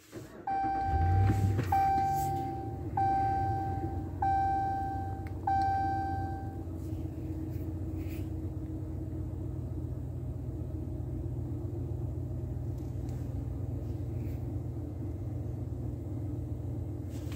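A car restarts and its electronics boot up, giving a series of four or five evenly spaced electronic beeps in the first several seconds over a steady low engine hum. The idle then continues alone at moderate level.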